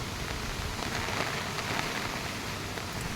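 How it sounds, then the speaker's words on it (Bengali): Heavy rain in a strong storm with wind lashing coconut trees, a steady dense hiss of downpour holding at an even level throughout with no voices. "এত ঝড় হচ্ছে যে নারকেল গাছগুলো কি নড়ছে"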